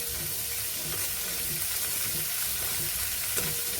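Sprouted black peas, chickpeas, red chickpeas and kidney beans are lightly sautéed in a pan for a sprout salad. A quiet, steady sizzle runs throughout, mixed with soft stirring scrapes.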